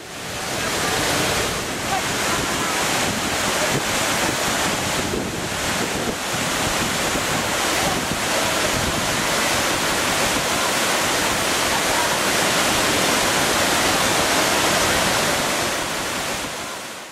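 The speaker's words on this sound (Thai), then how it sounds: "จะได้ไป ชมความงามของน้ำตกสาริกานะครับ" Sarika waterfall in Thailand, a loud continuous rush of falling water mixed with wind buffeting the microphone, steady and unbroken throughout, with no voices.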